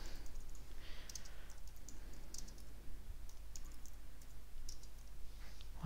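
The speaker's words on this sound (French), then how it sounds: "Voilà, et je clique sur publier." A computer mouse and keyboard on a Mac give soft, faint clicks and light taps scattered irregularly over a quiet room hum.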